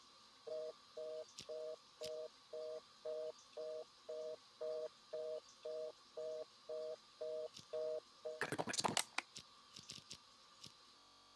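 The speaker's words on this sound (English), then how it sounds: "Answer the fucking phone." Phone ringback tone from the video game Unheard, a steady series of about a dozen evenly spaced beeps, followed by a burst of clicks and crackle near the end.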